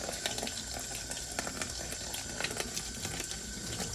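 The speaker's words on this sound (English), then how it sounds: "you'll just run water over it and get the paint out" Tap water runs steadily over an empty watercolor paint case, a continuous close splashing wash with small irregular spatters and no voices.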